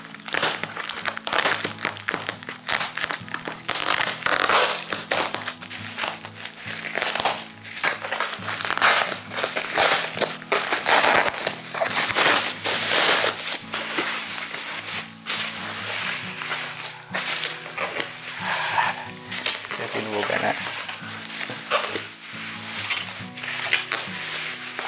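Crinkling and crushing of plastic and cardboard packaging as a socket 1155 motherboard is unboxed, a dense, continuous rustle of close handling throughout with brief knocks.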